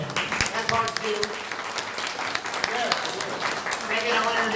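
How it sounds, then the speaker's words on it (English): Audience applause for a band at a Halloween costume dance at an Illinois veterans home, a steady wash of clapping from the crowd with someone talking over it. "I want to get a round of applause for this awesome band that's been up here tonight"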